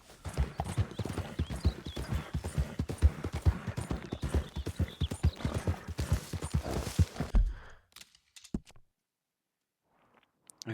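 Horse hooves galloping in the video game Red Dead Redemption 2, a fast steady clip-clop close up that runs for about seven seconds, then stops abruptly, leaving a few faint clicks and near silence.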